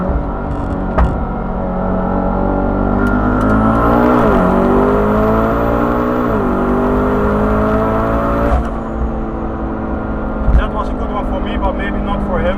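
BMW M4 with 630 hp and VW Golf R with 631 hp launching on the autobahn, engine drone rising steadily through the gears with shift dips, loud and continuous inside the car.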